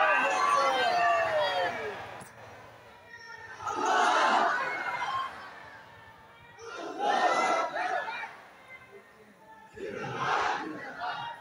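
A large crowd at an evening cultural gathering shouts the takbir in three loud, surging collective bursts, each rising and fading with gaps between them.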